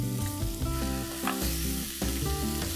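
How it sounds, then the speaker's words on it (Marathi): Onion and drumstick pod pieces sautéing in a pan for a Maharashtrian drumstick bhaji, giving a steady, close sizzle and frying crackle with no talking. "हे साधारण 2 मिनिटं आपण परतून घेऊया।"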